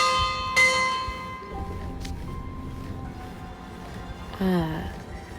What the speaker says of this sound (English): That's the warning bell.